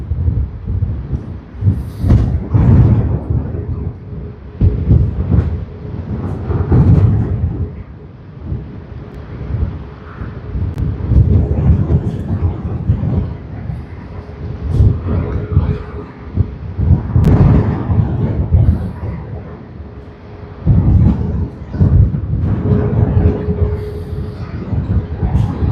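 Deep rumbling roar of an airliner taxiing off runway 16R at Sydney Airport, rising and falling in heavy low-frequency waves with gusty wind buffeting, loud and continuous.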